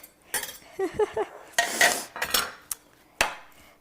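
Macaroni salad with chopped onions stirred in a bowl with a utensil: several close scraping, clinking strokes in quick bursts, with short pauses between them and no talking.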